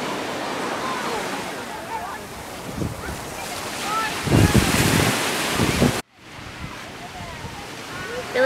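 Ocean surf at Lido Beach, a continuous wash of waves with gusty wind buffeting the microphone, a louder surge midway, and voices faintly present in the background.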